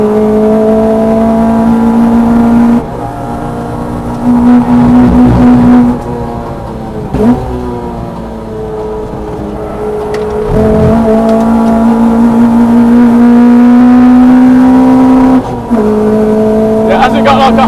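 A 250 bhp Renault Clio Mk3 R27 with individual throttle bodies screams on track, climbing toward a soft limiter near 8,000 rpm with sharp gear changes between loud rising pulls.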